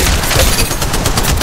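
Rapid gunfire in a mobile battle royale video game, a dense loud burst of repeated shots filling the whole short moment.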